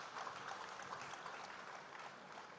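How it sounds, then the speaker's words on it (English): Warm round of applause from an audience at a formal ceremony, a steady dense patter of many clapping hands continuing evenly throughout at moderate, somewhat distant level. "Let's celebrate them again with another warm round of applause"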